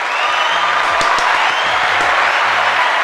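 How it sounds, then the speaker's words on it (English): Canned applause and crowd cheering from a soundboard button, a dense steady wash of clapping held at even loudness for about three seconds, with faint low talk underneath. "let's give a round of applause for that"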